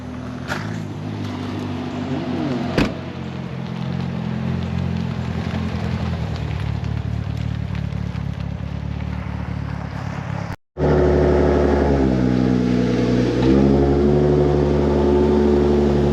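A car rolls up and revs among other tuned cars at a performance automotive shop, its engine a steady rumble for ten seconds before a brief cutout and a louder, closer revving engine with rising and falling pitch.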